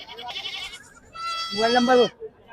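A goat bleats loudly and close by at a goat market, a wavering cry following a shorter bleat, with quiet background noise.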